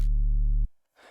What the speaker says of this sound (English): I use Kick-Tight on already a massive sub that already sounds like this.